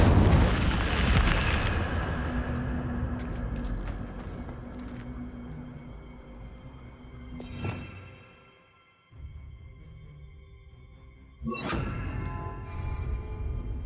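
Incendio fire spell cast in Hogwarts Legacy, a fantasy action game; a loud roaring burst of flame at the start fades into rumble, followed by two sharper whooshing blasts later, with no speech.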